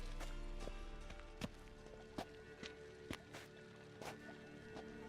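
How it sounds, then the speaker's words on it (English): Horse hooves clip-clopping at a steady walking pace in The Witcher 3 video game, faint regular hoof strikes over a low sustained background hum. "horse."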